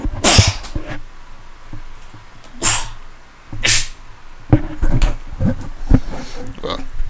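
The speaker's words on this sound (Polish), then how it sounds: "Uwaga, będę kichał." A man sneezes several times in a row, sharp loud bursts spaced a second or so apart, with shuffling and small room noises between them.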